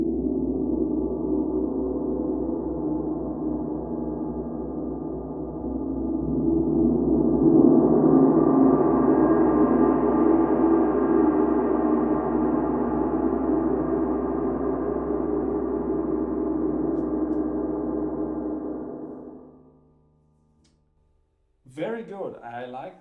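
A 40-inch Sela Loto series wind gong struck with the biggest soft mallet swells into a loud, dense, shimmering wash that builds and sustains for about twenty seconds before being damped, followed by a brief bit of talk.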